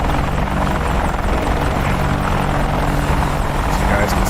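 Military helicopter in the DCS World flight simulator, its rotor and engine droning loud and constant throughout.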